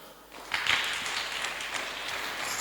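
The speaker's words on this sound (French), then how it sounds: "On acclame." An audience breaks into applause, a steady patter of many hands clapping at moderate volume, beginning abruptly and continuing evenly to the end.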